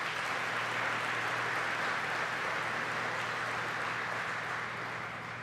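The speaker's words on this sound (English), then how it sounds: "Let's give a round of applause for our suppliers and dealers." Steady, dense applause from an audience of Ford suppliers and dealers gathered in a hall, a continuous wash of clapping that holds evenly throughout and only eases slightly at the very end.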